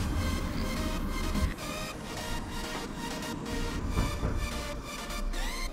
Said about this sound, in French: On prend notre spray et puis on le mélange bien.